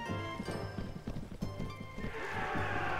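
A horse in the medieval combat game Mount & Blade Warband gallops with rapid, rhythmic hoofbeats, and a whinny breaks out amid the game's battle noise.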